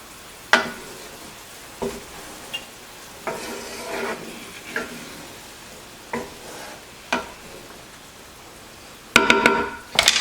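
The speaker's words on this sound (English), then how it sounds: "I'm going to stir this all in" Chicken and broccoli pasta being stirred in a pan over a quiet sizzle, with separate scraping strokes every second or so and a quick cluster of clattering utensil knocks at the end.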